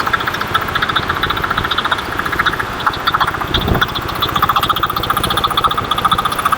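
A T-2500 four-wheel weeder with a 9HP diesel engine runs steadily close by, a constant throbbing idle with a whining tone over it. There is no talk throughout.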